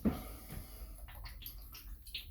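Fake Yellow Light aftershave splash bottle shaken by hand, giving a quiet, brief liquid slosh with a few soft rattling splashes, close and faint, no voices.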